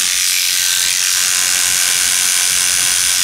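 Freshly sharpened electric barber hair clippers run close up with a loud, steady, high-pitched buzzing drone that does not vary.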